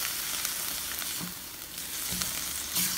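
A glass noodle stir fry with beef, vegetables and gravy sizzles steadily in a hot pan while it is stirred, giving a close, hissing fry with occasional scraping and clacking from the utensil and no speech.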